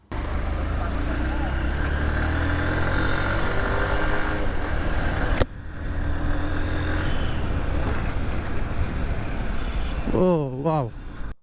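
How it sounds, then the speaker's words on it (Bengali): A secondhand motorcycle engine runs steadily through a test ride, a loud continuous drone with a brief break midway, then a voice near the end. "তো বাইকটা এখন টেস্ট ড্রাইভ দিব"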